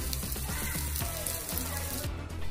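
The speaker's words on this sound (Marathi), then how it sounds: "आता हे मासे दोन्ही बाजूनी तेलाने चांगले फ्राय करून घ्यायचे।" Rani fish sizzling in hot oil as a second side fries, a dense close crackle with bursts of popping spatter running continuously for a couple of seconds.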